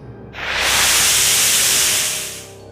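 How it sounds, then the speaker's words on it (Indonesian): A hiss of small flames bursting from cracked ground, a steady rushing noise that swells in quickly, holds loud for a couple of seconds, then fades away. "dari celah-celahnya menyembur api kecil disertai suara mendesis"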